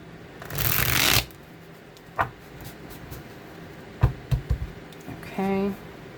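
Tarot cards being shuffled in a loud riffling burst near the start, then a few soft card taps and handling sounds, with a short tonal hum at the end and no speech.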